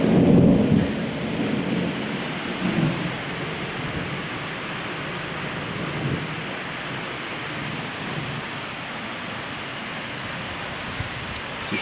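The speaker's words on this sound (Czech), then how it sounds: "Prší." Rain falls steadily at a lake in Bosnia and Herzegovina, a dense hiss of drops mixed with low rumbling, heaviest at the start, then settling into an even wash.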